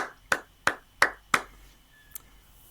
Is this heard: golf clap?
yes